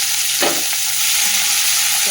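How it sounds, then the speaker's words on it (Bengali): Chopped onion fries in hot oil in a pan after bay leaf and whole spices are tempered, giving a loud, steady sizzle close to the mic with a few brief stirring scrapes. "পেঁয়াজটা ভাজা হয়"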